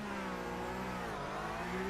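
Porsche race car engines in a sim racing game, a dense chorus of engines revving steadily and building at the start, loud and continuous with no pauses.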